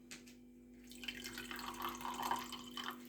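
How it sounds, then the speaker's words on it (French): Vinegar saved from a jar of pickles pours into a dish in a kitchen, a soft liquid trickle and splash that starts after a brief pause and runs steadily to the end, close and fairly quiet. "Alors je mets un peu de vinaigre."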